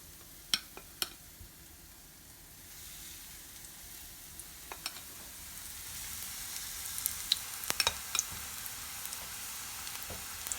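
Steady sizzling of thick pancake batter frying in a hot pan, with scattered pops and crackles that grow slightly busier toward the end; no voices.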